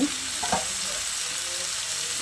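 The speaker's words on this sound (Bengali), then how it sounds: "তারপর একটা ঢাকনা লাগিয়ে এই 3-4 মিনিট মতো মিডিয়াম ফ্লেমে কষিয়ে নেব।" Steady close sizzle of jackfruit and potato sautéing over medium flame in a covered pan, a continuous frying hiss with a few faint stir knocks near the start.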